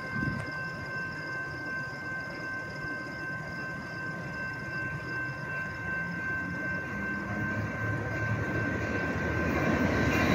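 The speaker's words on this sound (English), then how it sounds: "here comes San Joaquin train" An Amtrak San Joaquins passenger train approaches from a distance with a steady rumbling roar that slowly grows louder, accompanied by a sustained high whine.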